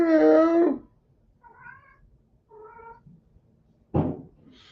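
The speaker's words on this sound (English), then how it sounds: "Got whitey cats." A cat meows loudly and close at the start, followed by a few quieter, shorter mews, then another sharp meow near the end in a quiet room.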